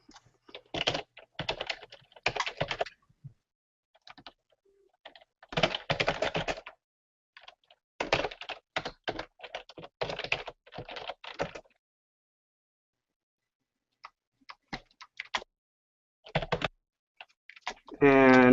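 Rapid clicking of a computer keyboard as a headline is typed, in several quick bursts separated by pauses, close and fairly clear with no talking over it.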